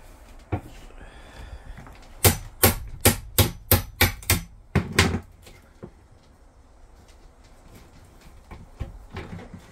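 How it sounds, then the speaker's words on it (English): A hammer strikes a chisel wedged under rotten floorboards inside a narrowboat shower area, about nine sharp, evenly spaced knocks in a quick burst, close and loud, followed by quieter scattered taps. "pass me a hammer, please."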